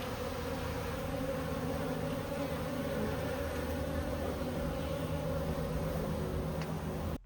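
Insects buzz steadily and continuously around a beef cattle feeder outdoors, a dense droning hum that stays at an even level throughout with no talking.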